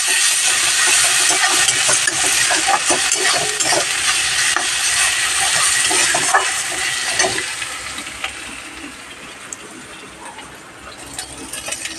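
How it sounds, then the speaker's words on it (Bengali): Loud, close sizzling of ginger-garlic paste frying in a pan, full of crackles and scraping stirs, easing off to a quieter hiss toward the end. "আদা রসুন বাটা দিয়ে বেশ একটু ভাজা ভাজা হবে"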